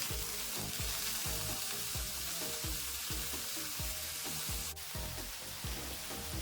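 Carrot and safflower greens sizzle loudly in a pan as a dry vegetable stir-fry, with a spatula scraping through it in a steady rhythm of repeated strokes under the constant frying hiss.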